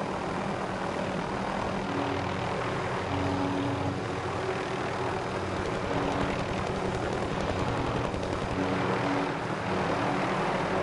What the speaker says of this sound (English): Recon flyover.